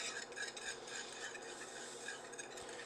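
A spoon stirs melting cheese into a creamy sauce in a pot for scalloped potatoes, a faint, continuous scraping and soft bubbling with light clinks, no voices.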